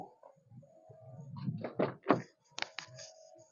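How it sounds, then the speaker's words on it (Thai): Door of a 2014 Toyota Yaris 1.2G five-door hatchback being opened, a few short latch clicks and thunks, close and moderately loud in a quiet setting. "เดี๋ยวผมไปเปิดประตูให้ดู"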